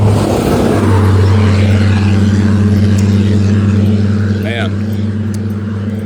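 Loud trucks rolling past in a truck driving video game, a constant heavy low engine drone with a brief higher whine near the end, while someone talks over it.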